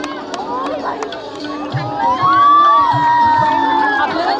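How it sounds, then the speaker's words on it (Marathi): A large crowd at a political rally in Nagpur cheers and shouts to welcome a guest, a loud continuous roar with whoops and high cries rising near the middle. "सर्वांनी जोरदार टाळ्या वाजवून ताईचं स्वागत करावं"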